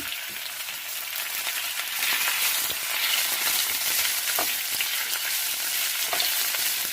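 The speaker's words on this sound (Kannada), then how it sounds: "ಬೆಂಡೆಕಾಯಿ ಒಂದು ಸ್ವಲ್ಪ ಮೆತ್ತಗಾಗಬೇಕು ಮತ್ತು ಗೋಲ್ಡನ್ ಬ್ರೌನ್ಗೆ ಹುರ್ಕೋಬೇಕು" Okra (ladies finger) fries in a few spoons of oil in a kadai, producing a continuous crackling sizzle, close and fairly loud, with faint occasional stirring taps.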